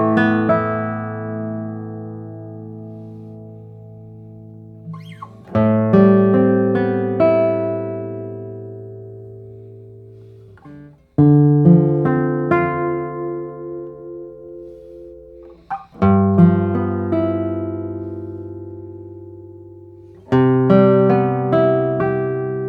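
A 1954 Hauser II classical guitar is played solo: rich plucked chords and notes ring out and decay, with several fresh strums spaced a few seconds apart, close and clear.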